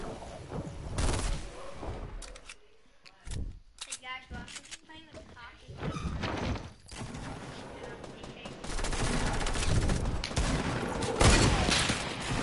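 Rapid bursts of gunfire in a shooter video game crackle through the clip, loud and dense at the start and end with sparser shots in between, under excited talk from players.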